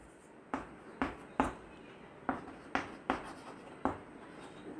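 A pen taps and scratches across paper in short separate strokes, about eight distinct marks spaced irregularly, close and crisp, while a physics solution is written out by hand with no talk.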